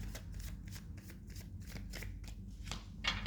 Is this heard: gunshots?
no